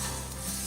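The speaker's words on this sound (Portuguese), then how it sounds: "E aqui a gente vai fritando esse arroz até que ele fique totalmente sequinho" White rice frying in oil in a pan while being stirred, a steady close sizzle with soft scraping throughout the short moment.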